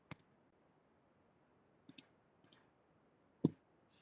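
Quiet, sharp computer mouse clicks in a still room, a quick double click at the start, another pair a little later, then single clicks, the last one louder.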